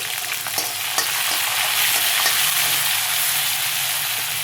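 Green chillies frying in hot oil for fried rice with broccoli make a loud, close, continuous sizzle, with a few faint taps early on and no talking.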